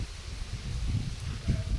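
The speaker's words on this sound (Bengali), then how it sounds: "কিন্তু ঝড়ের মতন হাওয়া হচ্ছে" Strong, gusty open-air wind on a cloudy-then-sunny morning, rumbling low and steady against the microphone with a brief stronger gust near the end, no talking.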